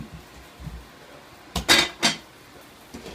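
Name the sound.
Dutch oven pots of bread dough put back into oven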